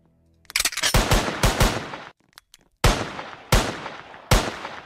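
Video game gunfire comes in loud, close bursts: a rapid volley, a short gap with a couple of faint clicks, then three single heavy shots spaced about a second apart.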